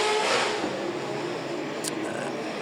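A loud super sedan race car driven by Tristan Green sweeps onto the main straight at Bunbury, a harsh, rasping engine roar that swells close then holds steady, with a commentator talking over it.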